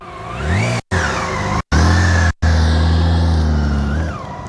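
A motorcycle engine revs steadily during slow-speed riding practice, holding a loud, close drone with a few sharp cutoffs, then gently rising and falling in pitch.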